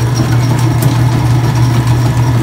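A washing machine on its spin cycle gives off a loud, steady low hum with constant droning vibration, close up and unbroken across the short stretch, with no voices over it.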